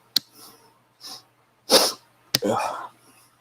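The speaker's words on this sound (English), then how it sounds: "And I'm going to sneeze." A few short nasal bursts and sharp breathy exhalations close up, like a stifled sneeze attempt with sniffing, separated by brief silences.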